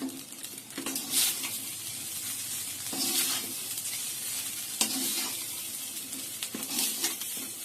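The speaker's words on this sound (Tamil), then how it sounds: "சிக்கன் பீஸ் போட்டு நல்லா கலந்துக்கலாம்." Chicken pieces stirred into fried rice in a hot pan, with a steady sizzle under repeated scraping stir strokes about every two seconds, close and moderately loud.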